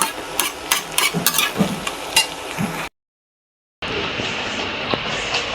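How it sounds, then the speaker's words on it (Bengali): Okra (bhindi) sizzles and frying in a pan in a home kitchen, a steady crackling hiss with occasional stirring scrapes; the sound briefly drops out then resumes. "ভাজিটা হচ্ছে।"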